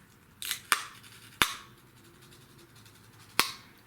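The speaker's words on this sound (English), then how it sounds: "I already have started pulling this top sticker" Top sticker being peeled off a By Terry Hyaluronic Tinted Hydra-Powder compact, heard as a few sharp, separate snaps and crackles, two close together and one later, close up in a quiet room.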